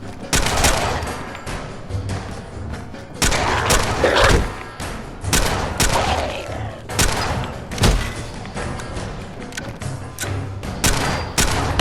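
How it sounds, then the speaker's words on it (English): A powerful handgun in Fallout 4 fires repeatedly in loud, booming shots spread irregularly through a chaotic fight, with impacts and thuds between them. "This thing is a hand cannon,"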